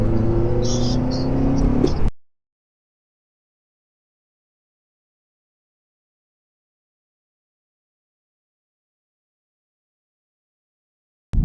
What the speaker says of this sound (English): I love the sound of the induction.